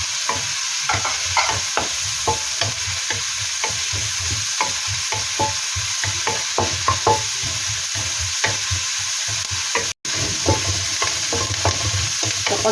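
Meat and onions fry in a pan for chao fan, a steady loud sizzle broken by frequent rhythmic scrapes and clacks of a spatula stirring, with no talking.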